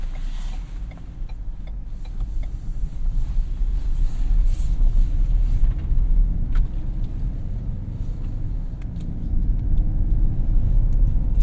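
2017 Ford Fusion Sport pulling out and driving in sport mode, a steady low engine and road rumble from inside the cabin with faint creaks and clicks, no one speaking.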